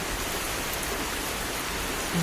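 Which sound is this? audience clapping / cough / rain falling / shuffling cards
rain falling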